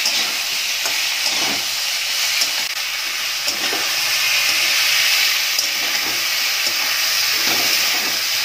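Bitter gourd and potato fry in a pan with turmeric and salt, giving a constant bright sizzle and hiss. Occasional soft stirring knocks come through underneath, and no one speaks.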